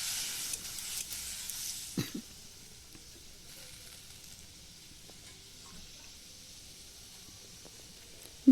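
Masala frying with a little water in a pan over a wood fire in a clay oven, heard as a soft, steady sizzle and hiss close by, with a faint stir or scrape near two seconds and a clunk at the end.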